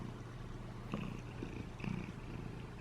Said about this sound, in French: Je pense que vous l'entendez ronronner.